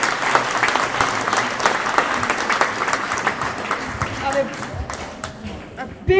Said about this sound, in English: A big round of applause for Dave Monk